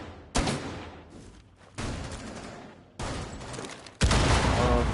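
Repeated bursts of gunfire from a multiplayer video game shooter, with four sharp loud volleys, each onset decaying into a rattling tail, close and dominant with no talking over them.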